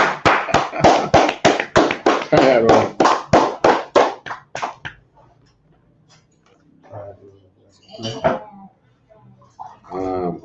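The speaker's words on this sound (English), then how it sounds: "clap it up." A group in an online class claps in a fast burst of about fifteen sharp, close claps over four seconds, which then stops, followed by brief scattered talk.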